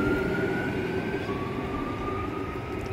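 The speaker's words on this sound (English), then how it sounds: "Oh, the other train's coming." A train rolls into a station platform with a steady low rumble and a thin, drawn-out tonal whine, heard clearly and continuously with no talking.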